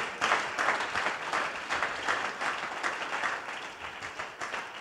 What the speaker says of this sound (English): Let me clap for Pastor Clay.